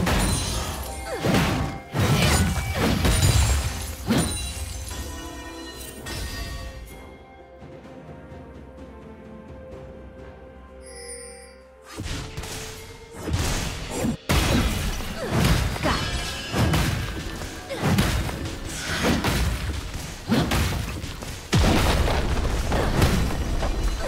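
Turret destruction in League of Legends during a top-lane match, with repeated heavy crashing booms and shattering impacts, a brief quiet gap in the middle, then more loud smashing hits.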